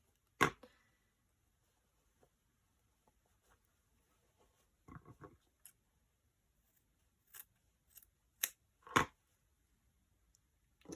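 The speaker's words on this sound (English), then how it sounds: "I'm just going to cut that off." Scissors trimming about a centimetre of excess fabric from a sewn bag: a few sharp, separate snips spread across a quiet stretch, close and fairly crisp, with small handling rustles between.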